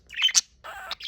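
A pet budgie chirps nearby in a few quick, bright tweets and short squawky calls, bunched into two brief bursts with no talking.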